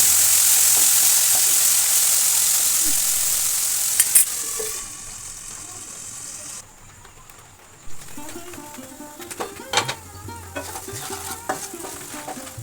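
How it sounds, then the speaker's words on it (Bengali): Potatoes frying with a pinch of cumin in a pan, a bright sizzle that settles and quiets, followed by clinking, scraping stirs of a utensil near the end. "আলুর ভিতরে সামান্য জিরে দিতে হবে। আলু ভেজে তুলে নেব।"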